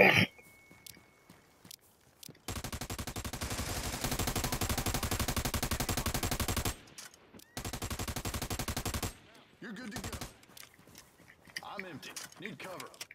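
Automatic gunfire in the video game America's Army: Proving Grounds comes as two long, rapid, loud bursts of continuous fire with a short gap between them, followed by scattered game sounds and a player talking.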